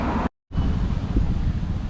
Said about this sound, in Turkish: hava sıcak ama biraz rüzgarlı